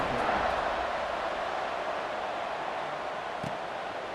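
Steady stadium crowd roar fills a college football game, Liberty at Ole Miss in EA Sports College Football 26, a broad continuous wash of cheering at moderate level with no distinct peaks.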